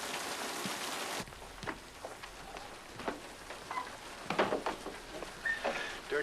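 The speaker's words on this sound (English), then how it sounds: "I didn't hear you in all this rain." Heavy rain pours steadily at night outside a roadside motel in the 1960 film Psycho, with irregular louder drops and splashes pattering on surfaces close by, and no voices.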